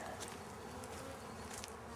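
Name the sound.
honey bees around queen cage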